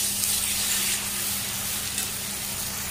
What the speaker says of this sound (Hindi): अच्छे से मसाला को तेल ऊपर आने तक फ्राई करेंगे